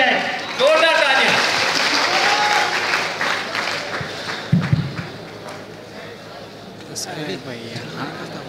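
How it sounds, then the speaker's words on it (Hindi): Audience at a boys' hostel day event bursting into applause for a solo song performer, dense clapping that swells and then fades, with voices heard over it and a brief louder knock midway. "Please give him a big hand, जोरदार ताली।"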